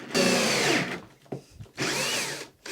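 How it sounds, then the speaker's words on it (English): A drill bores an angled pocket hole in wood in two loud, close bursts of high whirring separated by a short pause, with brief clunks between them. "We have a hole drilled from an angle, coming in here and coming out on the other side here"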